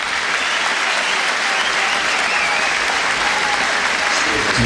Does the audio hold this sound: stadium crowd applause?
yes